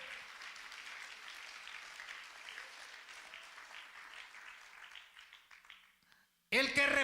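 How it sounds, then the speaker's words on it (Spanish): A church congregation applauds in a steady, distant wash of clapping that fades over several seconds, followed by a preacher's voice speaking up close. "Dale un aplauso si tú lo crees."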